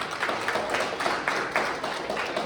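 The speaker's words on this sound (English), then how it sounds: "Give yourself a round of applause." Audience applause at the Lil Guyana Icon Awards gala at Jericho Palace, a steady wash of many hands clapping at moderate volume, slightly distant and even throughout.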